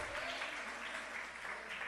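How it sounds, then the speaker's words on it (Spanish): A church congregation applauding together as an offering to the Lord during a service, a dense, continuous wash of many hands clapping at once, steady and fairly distant, without voices. "Le da una ofrenda al Señor de palmas, hermano."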